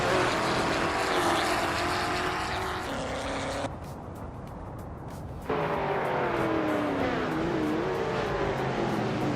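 Race cars roar continuously around a track during a race, engines loud and close with pitch sweeps as cars pass and accelerate, a brief drop in level midway before the full roar returns.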